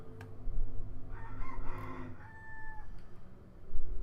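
A rooster crows once nearby, a rising then sustained strained call over low background hum, loud and clear without talk.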